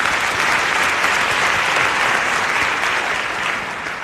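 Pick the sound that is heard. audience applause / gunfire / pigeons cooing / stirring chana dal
audience applause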